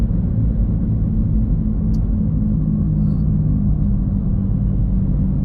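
A car cruising at a steady speed along a rural road near Swillington Common, Leeds, on a Sunday morning, giving a continuous low engine and road rumble that stays even throughout, with no talking.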